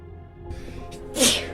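A single sharp sneeze bursts out near the end, close and fairly loud, after a short stretch of quiet room tone.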